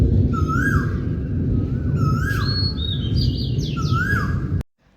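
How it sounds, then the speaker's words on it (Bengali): Asian koel calls repeat across a late-afternoon outdoor scene, a few rising whistled phrases standing out clearly over a steady low background rumble, with other birds chirping higher up; the sound cuts off abruptly near the end. "কি সুন্দর কোকিলের ডাক শুনতে পাচ্ছ তোমরা?"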